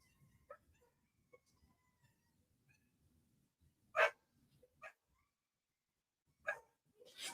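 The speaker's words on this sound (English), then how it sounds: "You can hear my dogs tripping because the Walmart person's here dropping off the groceries." Several dogs bark indoors at a grocery delivery person arriving, a few sharp barks and yips spaced apart over quiet room tone, loudest near the middle and end.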